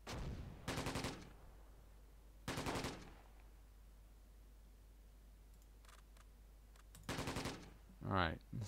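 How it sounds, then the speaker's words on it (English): Bursts of light machine gun fire in the WWII strategy game Close Combat: three loud, rapid volleys, each around half a second, separated by quiet gaps, with a brief voice near the end. "There's the light machine gun."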